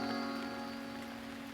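Rain falls as a soft, steady patter on surfaces in a drama scene, faint and continuous beneath a sustained tonal background.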